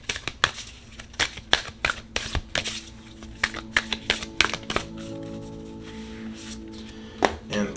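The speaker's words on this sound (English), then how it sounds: "So let's shuffle." Moonology oracle cards are shuffled by hand, a run of crisp, close riffling snaps and taps in uneven bursts that thin out into softer sliding and a few final flicks.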